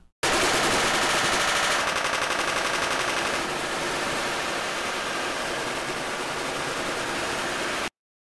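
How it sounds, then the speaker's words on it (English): A dense wall of many overlapping machine gun shots mixed with footstep sounds playing at once in Unreal Engine, merging into a loud, steady hiss close to noise for about eight seconds before cutting off abruptly. "all 100 of my gunshots and all 100 of my footstep sounds are going to play"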